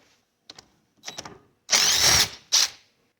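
A power tool removes a bolt from a DB2 diesel injection pump: a few short clicking blips, then a loud close two-second whirring burst and a final brief spin.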